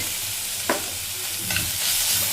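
Boiled, squeezed safflower greens frying in a pan give a brief close sizzle with a couple of quick stirring scrapes, no talking.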